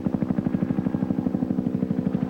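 A new military helicopter, late-1970s Army development and test type, flies nearby with a steady, rapid rotor thump that pulses evenly throughout, loud and alone with no voices.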